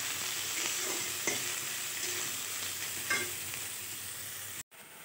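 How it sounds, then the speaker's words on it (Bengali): Finely chopped onion sizzles steadily in a pan for fried rice, with soft scraping as a spoon stirs it and a brief dropout near the end. "দেখো পেঁয়াজটা ভাজা ভাজা হয়ে গেছে"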